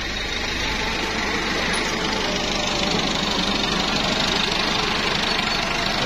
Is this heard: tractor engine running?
yes